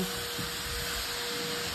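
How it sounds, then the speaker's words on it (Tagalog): Vacuum cleaner droning steadily and up close inside a 2010 Mitsubishi Outlander during interior detailing, a constant whine with a low rumble and no pauses. "Habang hinihintay ko siya nagba-vacuum"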